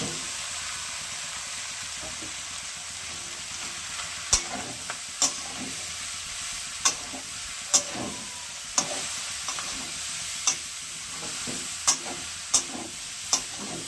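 Chunks of kohlrabi drained of water are frying and being stirred in a pan, a steady close sizzle and hiss with regular sharp clicks of the spoon against the pan.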